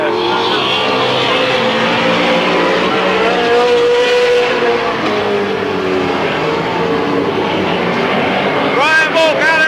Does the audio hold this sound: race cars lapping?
yes